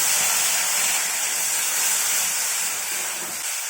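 Onion and tomato frying in a pan for a dahi bhindi gravy give off a steady, close broadband hiss and sizzle that holds unbroken throughout, with no talking.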